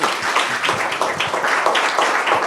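A seated crowd at an environmental forum panel discussion gives a short burst of continuous clapping, close and fairly loud, lasting a couple of seconds.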